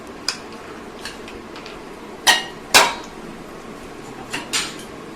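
Peanuts spooned into a pan make a handful of sharp, bright metallic clinks and rattles: a couple of light taps, then two louder clattering hits and two more later, with no voices.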